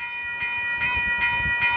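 Amtrak's Coast Starlight passenger train, Train 11 bound for Los Angeles, rolls by with a steady rumble and rhythmic wheel thumps under a sustained tonal horn-like drone, no voices.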